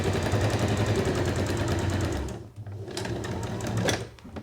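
Sewing machine running steadily as it stitches a square of fabric for a petal drawstring bag, a close, fast mechanical whir that pauses briefly, then resumes in a shorter burst.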